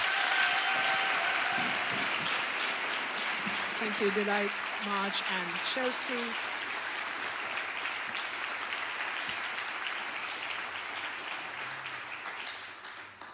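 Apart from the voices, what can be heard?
round of applause for panel members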